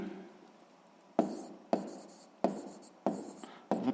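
Pen or pencil writes by hand on paper during a sixth-grade maths exercise, in a series of five distinct scratching strokes. Each one starts sharply and fades, close and quiet, with no voice.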